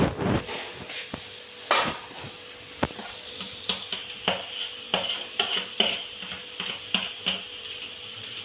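Grated coconut fries in an oiled pan with sautéed onion, mustard seeds and dried red chilli, a soft close sizzle broken by repeated scraping stir strokes, with no talk.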